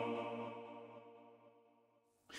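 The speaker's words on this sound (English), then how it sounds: "So I'm just going to use the stock stereo delay" A decaying tail from Logic's stock stereo delay plugin, quarter-note left and eighth-note right repeats, fades softly away as a sustained tone, then a brief new sound cuts in at the end.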